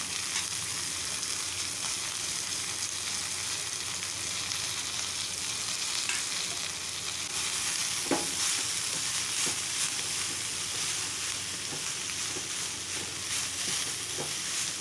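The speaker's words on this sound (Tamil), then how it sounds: "இதில் நான் நறுக்கி வச்ச கீரையை எடுத்து ஆட் பண்ணிக்கிறேன்." Chopped amaranth greens fry in oil for a home Amavasai meal, giving a steady close sizzle and hiss with occasional stirring scrapes throughout, no talking.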